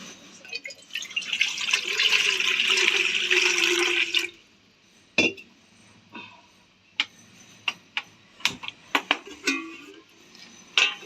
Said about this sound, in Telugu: ఇడ్లీ పాత్రలోకి వాటర్ వేసేసుకొని